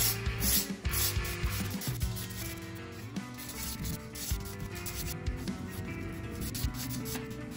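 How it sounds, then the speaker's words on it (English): A plastic wire brush scrubs across a crafted wood-grain surface, making soft, uneven rubbing and scratching strokes close up, faint and continuous with irregular bursts. "Plastic wire brush"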